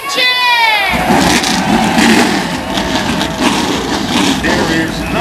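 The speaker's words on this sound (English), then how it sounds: "Drivers, start your" Open-wheel modified race cars fire up their engines together at a packed oval track. A brief rising whine gives way to a loud, continuous, rumbling roar of many motors, with a voice faintly beneath.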